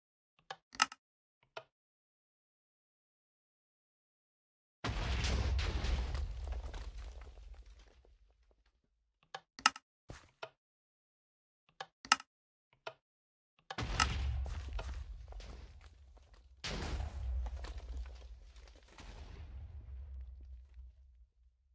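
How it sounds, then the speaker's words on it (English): Blocky Minecraft explosions go off in overlapping bursts, with a loud deep boom near five seconds, then another at fourteen and a third at seventeen, each rumbling away, and sharp clicks and taps scattered between them. "So some of them explode and then they go into the other ones and they go in all kinds of directions."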